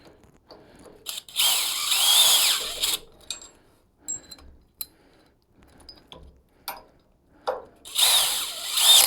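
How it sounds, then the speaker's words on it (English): A power drill drives screws into a Fanatec Clubsport GT sim-racing cockpit frame, with several loud, close whirring bursts separated by short pauses and small clicks and taps of handling parts. "this drill's got a little bit of torque in it."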